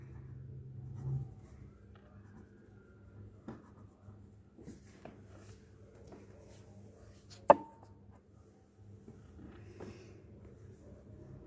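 Tally marks being written by hand during a class 7 maths statistics lesson, faint scratchy pen strokes and taps at irregular intervals, with one sharper tap standing out over a quiet low hum.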